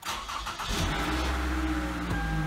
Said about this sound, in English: Now we'll start the car and we'll do it again.